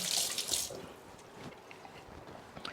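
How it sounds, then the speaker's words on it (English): A spoon is rinsed under a running kitchen tap. A brief splash of water comes first, then fades into faint drips and quiet handling. "I'm just going to rinse our spoon."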